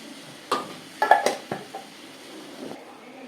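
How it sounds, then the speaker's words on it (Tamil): Cluster beans sautéing in a pan on a medium flame for a Tamil paruppu usili, with a few sharp spatula clanks and scrapes against the pan over a soft, steady background hiss. "மீடியம் ஃப்ளேமில் வச்சு நான் வதக்கிறேன்"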